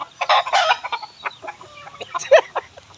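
A white pearl breed chicken clucks up close in short, irregular bursts, with one sharper squawk near the end.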